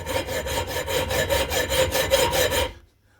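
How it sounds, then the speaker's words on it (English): A hand saw cuts through an old Honda CB750 K2 triple clamp in quick, regular rasping strokes, close and loud, then stops abruptly. "who would be cutting a triple clamp up like this, especially with an old CB750 K2?"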